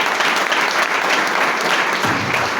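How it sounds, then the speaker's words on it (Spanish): A church congregation applauds steadily and loudly, a dense wash of clapping filling the whole moment. "Puede aplaudir al Señor."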